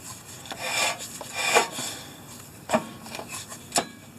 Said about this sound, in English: That's the rotor rubbing.